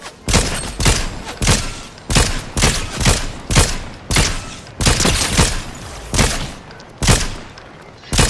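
Rapid gunfire in Fortnite, loud repeated bursts of shots in irregular clusters, close and dominant, with brief gaps between volleys.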